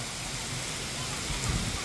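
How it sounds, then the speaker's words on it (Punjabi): Heavy rain pours down in a dense, steady roar, with gusty wind mixed into the constant hiss. "ਬਾਰਿਸ਼ ਦੇ ਨਾਲ ਨਾਲ ਤੇਜ਼ ਹਨੇਰ"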